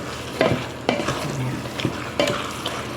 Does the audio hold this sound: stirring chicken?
yes